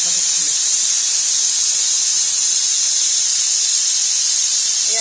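A pressure cooker cooking ghugni lets off steam in a loud, continuous, close hiss that holds steady throughout, with a faint murmur at the start and end.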